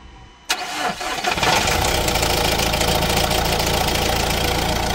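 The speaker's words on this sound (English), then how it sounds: "Start the engine." A Fiat Talento van engine cranks and catches with a sharp start, then settles into a steady, close idle rumble.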